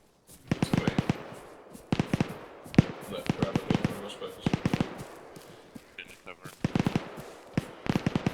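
Rapid bursts of rifle and machine-gun fire in the military video game ArmA 3, repeated clusters of sharp cracks over several seconds, with radio voices talking between the volleys.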